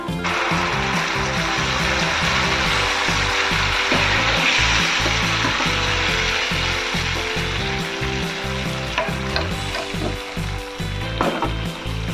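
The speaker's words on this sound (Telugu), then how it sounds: "ఉడకబెట్టిన మామిడికాయ పప్పుని తాలింపు చేసుకున్న దాంట్లో వేసుకున్నాం" Boiled mango dal sizzles loudly after going into a hot tempering in the pan, a steady frying crackle with bubbling and stirring scrapes that runs throughout, with no voices.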